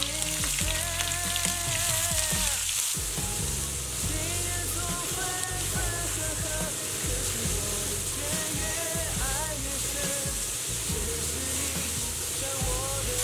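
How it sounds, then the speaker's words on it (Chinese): Ginger strips and chili peppers frying in hot cooking oil in a wok, a steady loud sizzle and crackle running throughout with some tonal clatter, no talk. "锅中倒点食用油，油热放入姜丝，炒香下入尖椒"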